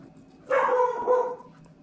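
A single short bark from a caged dog, fairly close and loud, with a whiny tail, against a quiet room.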